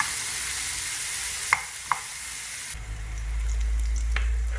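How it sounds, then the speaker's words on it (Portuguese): Onion sautéing in a pan for a potato rosti filling, a soft continuous sizzle with a few sharp clicks of stirring and a low rumble entering partway through. "A gente vai refogar ela até ela ficar transparente."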